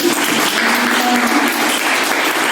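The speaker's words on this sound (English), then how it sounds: "A round of applause to everybody" Steady crowd applause, a dense wash of clapping that holds evenly throughout with no voices on top.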